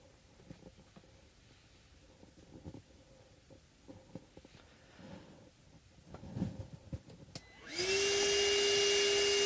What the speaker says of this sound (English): I think I should vacuum.